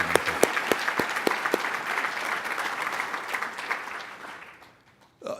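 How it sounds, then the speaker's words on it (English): Conference audience applause for a housing organisation: a few sharp, distinct claps open into a full round of clapping that gradually tapers and dies away near the end. "let's again give HAC a nice round of applause"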